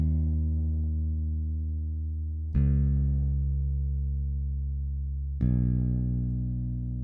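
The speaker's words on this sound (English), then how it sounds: "And then a simple bass." A deep, sustained synth bass in a melancholic hip-hop beat plays long held notes, changing pitch twice with soft attacks and steady decay, alone with no other instruments.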